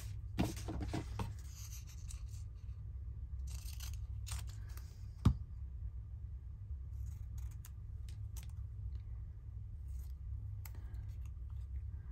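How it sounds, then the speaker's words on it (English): Scissors snipping paper while making French Rococo-themed journal cards, a burst of quick close cuts at the start, then scattered clicks and rustles, one sharp tap, and faint handling sounds over a low steady hum. "Scissors."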